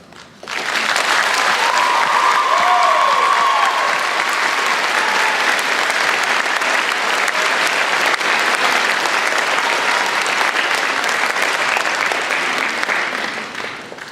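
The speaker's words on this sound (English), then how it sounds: "Please join me in applauding all of your efforts to get these young adults where they are today" Audience applauding graduates and families at a 2013 early college academy graduation ceremony, a loud, dense, sustained wash of many hands clapping for about thirteen seconds, with a faint tone or voice briefly audible near the start.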